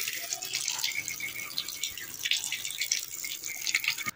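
Water pours steadily into a bucket for a few seconds, a continuous splashing hiss at close range, apparently mixing with clumps of soil outdoors in rural Punjab.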